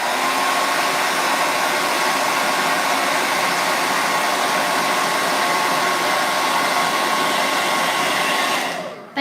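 A hair dryer blows steadily and loudly on fresh paint on a floral egg door hanger, a continuous close whooshing roar that runs unbroken for about nine seconds before cutting off at the very end.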